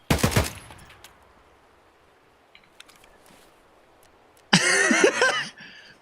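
Bursts of gunfire in the shooter Escape from Tarkov: a loud rapid volley at the start, a few faint distant clicks and pops, then another loud close burst with ringing tails.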